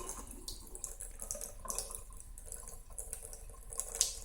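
Hot water runs steadily from a tap into a sink to rinse a blocked pipe, a continuous close splashing hiss with small drips and spatters throughout, no voices.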